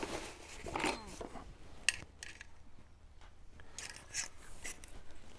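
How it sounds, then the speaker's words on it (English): A stainless steel exhaust clamp is fitted onto a TEC stainless slip-on silencer on a Triumph Street Twin motorcycle, giving scattered light metallic clinks and rubbing scrapes, close but fairly quiet, with one sharper tick partway through. "So you need to put your clamp on."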